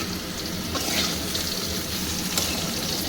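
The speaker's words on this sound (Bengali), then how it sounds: "এবার আমি ঝিঙেটা দিয়েও একটু ভেজে" Ridge gourd fries with potatoes in a pan, a continuous soft sizzle with a few stirring swishes, close and moderate in level.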